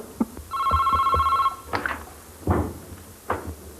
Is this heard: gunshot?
no